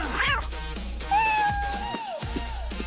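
A cat gives a few drawn-out, wavering meows, close and fairly loud, with a short yowl at the start and a thumping rhythmic beat running underneath.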